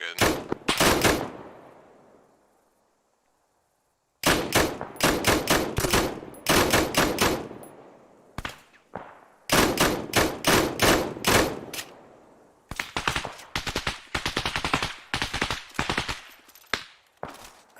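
Close, loud bursts of machine-gun fire in a combat firefight, with repeated rapid volleys separated by short pauses and one long silence.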